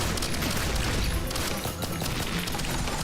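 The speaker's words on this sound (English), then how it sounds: "I'm gonna just kind of chill in here, shoot a couple missiles. All my turrets recharge." Missiles and turrets fire nonstop in the video game Risk of Rain Returns, a dense, loud barrage of overlapping blasts and crackling impacts with no break across the whole stretch.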